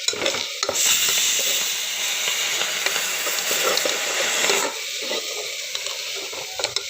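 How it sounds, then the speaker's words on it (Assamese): Dal tipped into a hot pressure cooker without oil hisses loudly and steadily up close for several seconds, with stirring scrapes through it, before the sizzle drops away. "এয়া হ'লে গৰম, দাইলখিনি ইয়াতে দি দিওঁ"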